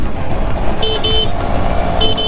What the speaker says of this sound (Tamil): okay horn is good